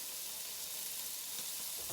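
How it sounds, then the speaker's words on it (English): A steak hisses and sizzles in a pan on an AGA cooker, a steady, close frying crackle that carries on without a break and with no voices. "there you are, you get that nice sizzling sound"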